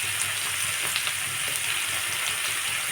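Colocasia being sautéed with turmeric, salt, chilli powder and a pinch of sugar in a pan, a constant even sizzle with soft stirring scrapes throughout, no voices.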